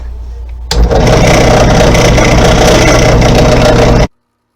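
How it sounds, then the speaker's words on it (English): A drill press converted into a milling machine cuts with an 8 millimeter bit, giving a loud, steady whirring and grinding that starts abruptly, runs continuously for several seconds, then stops dead. "we're gonna mill with 8 millimeter bit and see how it goes."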